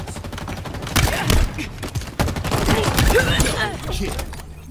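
Rapid gunfire bursts in Halo Infinite multiplayer during a Stronghold match, with rattling volleys and sharp shots layered over game effects and a player's brief talking.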